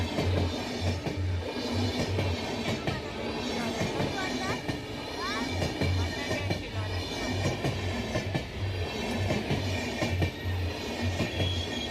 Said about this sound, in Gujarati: ફાટક બંધ છે ટ્રેન આવે બતાવીએ જુઓ.